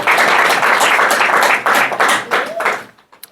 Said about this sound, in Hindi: आप प्रभु के नाम के लिए ताली बजा सकते हैं